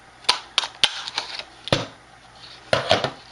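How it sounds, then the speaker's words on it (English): Scissors cutting small hearts out of mustard-coloured paper for a turkey luminary craft, giving sharp, close snips spaced irregularly with soft rustling of paper between them and no voices. "I'm going to cut out 2 more of the small little hearts"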